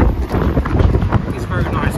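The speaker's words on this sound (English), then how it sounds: "a little bit windy out here" Strong wind buffets the microphone outdoors in Leeds with a constant rumbling roar, loud and close, while a voice talks underneath.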